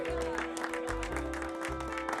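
A crowd applauds Terra Wylde as Summertide Star at a festival in the Wylde Flowers video game, a soft, steady patter of clapping mixed quietly under background music.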